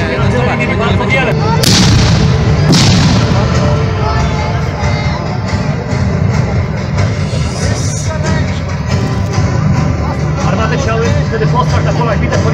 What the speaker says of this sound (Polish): Jako pierwsza została wytoczona artyleria, zarówno z jednej, jak i z drugiej strony.